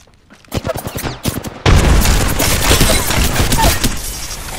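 Frag grenade blast and rapid gunfire in the Apex Legends Arenas game mode: a burst of sharp shots, then a loud, sustained explosion and continuing fire that fill the rest of the moment.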